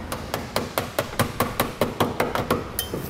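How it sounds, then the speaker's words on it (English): Steady hammer blows bending the rear edge of a heat shield on a 2017 Jeep Renegade during a trailer hitch installation, about fifteen sharp, evenly spaced metallic strikes, close and loud, with no voices. "Now we need to bend the rear edge of the heat shield in a little bit."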